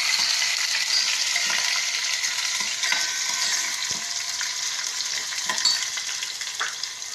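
Green chili and chopped ginger fry in a pan with a steady, close sizzle and occasional light clinks and stirring scrapes throughout.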